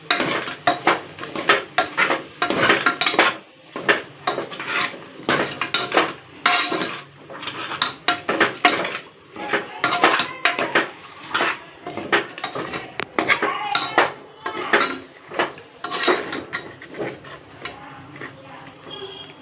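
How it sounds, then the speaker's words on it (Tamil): A spoon scrapes and clinks against a cooking pot, stirring masala spices steadily for about twenty seconds, with dense rhythmic metal taps and no talk. "மசாலாலாம் போட்ட உடனே அதை நல்லா நம்ம மிக்ஸ் பண்ணி விட்டுக்கலாம்"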